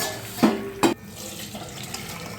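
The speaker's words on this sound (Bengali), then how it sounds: "সেদ্ধ হয়ে গেছে, আমি ঢেলে নেব।" Boiled water being poured off while cooking a thin Bengali fish curry, heard as a steady watery splash with two brief louder gushes near the start, then a softer continuous trickle.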